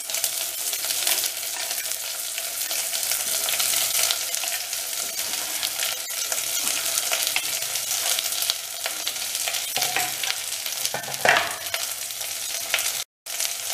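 Curry leaves and chopped vegetables frying in a hot pan for Indori poha, a steady close sizzle with occasional stirring scrapes, nearly alone with no talk.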